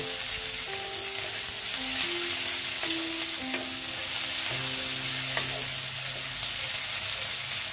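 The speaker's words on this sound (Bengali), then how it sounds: "পেঁয়াজগুলোকে ভালো মতন ভেজে নিতে হবে।" Chopped onions fry in hot oil in a pan, giving a steady, close sizzle with occasional stirring scrapes, with no voices.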